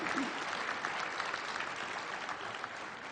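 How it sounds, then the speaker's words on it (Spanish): Steady audience applause at a Colegio de Bachilleres education event in Mexico, a dense wash of many hands clapping continuously at moderate level throughout, with no voices over it. "un aplauso para ustedes"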